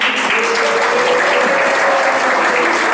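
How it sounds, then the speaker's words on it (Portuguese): Loud, dense applause from the audience at a Rotary Club meeting in Niterói, a continuous close wash of clapping with a faint tone running underneath. "Quero aproveitar aqui e estender uma salva de palmas para a Maria Helena também"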